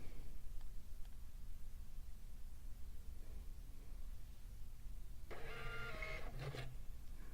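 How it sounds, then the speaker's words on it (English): A Star Micronics TSP650II receipt printer runs off a test page, a short burst of whirring, buzzing print noise arriving late after several seconds of low room hiss, with no talk. "That sound you just heard was my printer printing its test page out."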